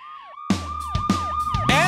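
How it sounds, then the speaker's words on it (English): A cartoon ambulance siren wails in rising and falling sweeps, loud and close, joined by a bright musical backing partway through. "Ambulance!"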